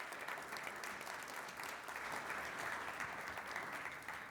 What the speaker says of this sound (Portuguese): Palmas para o senhor Irineu